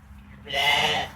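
Sheep bleating on a farm during lambing season, a single drawn-out bleat rising after a quiet start, fairly close and clear over low background rumble.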